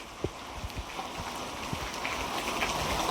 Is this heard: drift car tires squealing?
no